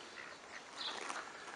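Ducks quack in a duck hunting video game, a short burst of a few faint, nasal calls heard alone.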